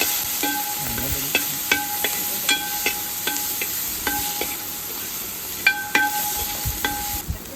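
Crushed ginger, garlic and green chili frying in coconut oil for a wedding-style chicken biriyani, a steady close sizzle with repeated scraping and tapping of a spoon stirring the pan, no voices.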